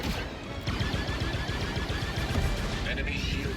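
Ship turret in the Star Wars Outlaws video game fires a dense, unbroken barrage of rapid shots, loud and close, mixed with crashing impacts throughout.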